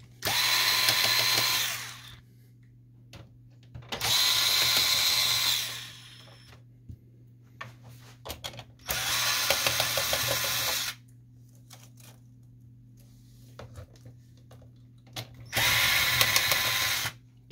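A power screwdriver removes screws from a Canon MG6220 printer being taken apart, whirring in four separate loud bursts of about two seconds each, with quiet pauses between them.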